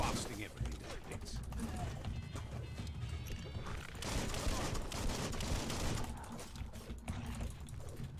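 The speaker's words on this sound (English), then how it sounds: "Blasting everything to bits." Dense, continuous gunfire from the video game Biomutant: rapid overlapping shots and blasts fill the whole stretch at a steady, loud level, with no pauses.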